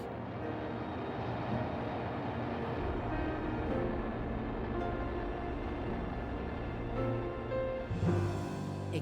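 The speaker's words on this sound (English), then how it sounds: "The Titan engines built by Aerojet General came to life." Aerojet General Titan missile engines roar through a captive test firing: a dense, continuous rumble at a distance, fairly faint, with a sharp burst of added noise near the end.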